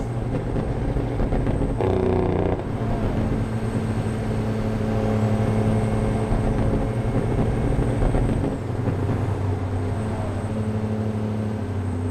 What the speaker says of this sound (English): Oh yeah, this truck's sounding good.